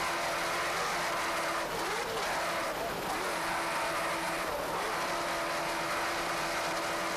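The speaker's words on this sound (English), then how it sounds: "just listen to how he's working those throttles aboard this 40-foot Jaguar." Engines of a 40-foot Jaguar offshore racing powerboat roar loudly and continuously during a 1993 offshore powerboat race, with several rising and falling throttle sweeps over broadband wind and water noise.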